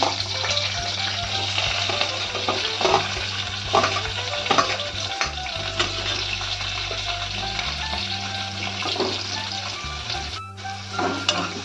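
Chopped onion sizzles and fries in hot oil with mustard seeds and curry leaves while toor dal amti is prepared, a steady, close crackling hiss with occasional stirring scrapes throughout.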